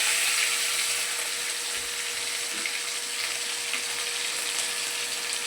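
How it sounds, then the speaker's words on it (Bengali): Marinated mutton being added to a hot wok for biriyani gives a steady, moderate frying sizzle with faint stirring and scraping underneath, continuing evenly throughout. "সেই ম্যারিনেট মাংসটা আস্তে আস্তে আমি কড়াইতে ছেড়ে দেবো"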